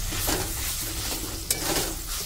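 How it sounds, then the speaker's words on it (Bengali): Jackfruit paste mixture hits a hot pan and sizzles steadily at close range, with a few stirring scrapes and a brief clink of utensil against the pan, and no talking. "এরপর দিয়ে দিচ্ছি এঁচড়ের মিশ্রণটা"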